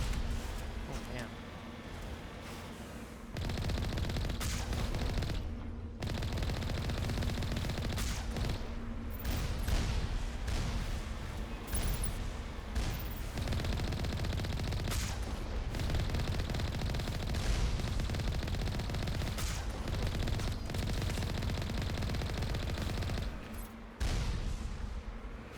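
Sustained gunfire in the video game Mass Effect, with dense rapid bursts and booms running almost continuously, loud and close, with a player speaking at times.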